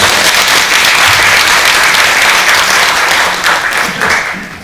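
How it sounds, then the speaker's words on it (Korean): An audience at a memorial ceremony applauds loudly and evenly, a dense wash of clapping that fades slightly toward the end. "박수 한번 쳐주세요"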